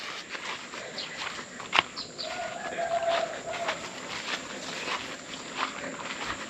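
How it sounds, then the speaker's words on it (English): Birds call faintly in the background on a farm in Koror, Palau, with soft cooing and scattered chirps over a quiet outdoor bed, along with a few footsteps and light knocks. "You can hear the birds in the background."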